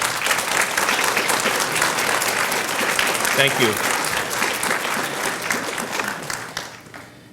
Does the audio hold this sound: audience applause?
yes